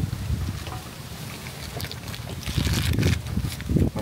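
Strong wind gusting over the microphone outdoors at a Korean barbecue, rumbling loud and steady with surges that swell toward the end, no voices over it.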